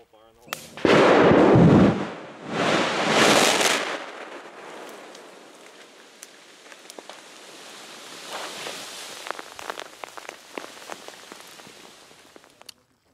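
A controlled detonation destroys stored CBI propellant at Camp Minden: a massive blast erupts near the start with a second heavy rumbling surge, then crackling, popping debris and scattered sharp snaps fade over the following seconds.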